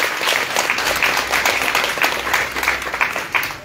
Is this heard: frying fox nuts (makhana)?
no